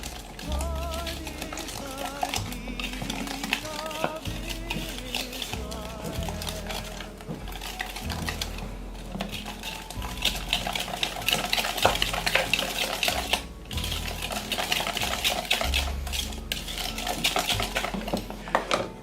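Eggs are mixed in a bowl while making Christmas-tree cornets: a utensil clinks and scrapes rhythmically against the bowl in repeated close strokes, with kitchen clatter throughout.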